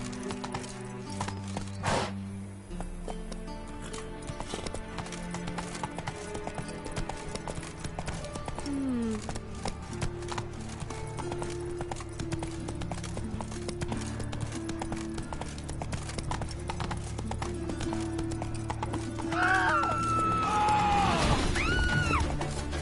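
Roach the horse trots in a PS4 video game, with a steady run of hoof clip-clops over game music and a brief whinny-like cry near the end.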